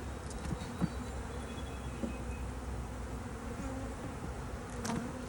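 Honey bees buzz around an open hive being inspected in spring, a dense, steady droning hum close by with a few faint taps and knocks.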